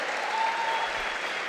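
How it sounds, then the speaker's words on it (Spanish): Audience applause at a fifth-anniversary event for an urban TV channel, a short burst of steady, even clapping from a crowd at moderate loudness, with a faint tonal hum running through part of it. "Vamos a darle un fuerte aplauso a Juan Carlos Asturiano"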